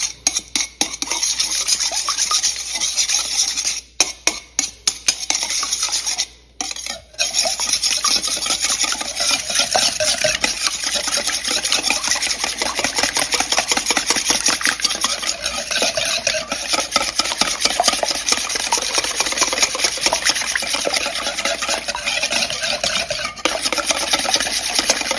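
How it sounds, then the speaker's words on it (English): Whisk scraping and stirring through wet keto eggnog donut batter ingredients in a bowl, a fast continuous rhythmic rasp running for about twenty-five seconds with a couple of short pauses early on. "now I'm just gonna whisk this together and then mix it with the dry ingredients"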